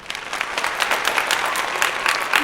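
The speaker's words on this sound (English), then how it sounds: "please a warm applause for Micah." A late-night show audience in Oulu breaks into warm applause, a brisk, even patter of many hands clapping, fairly close and steady throughout the short moment.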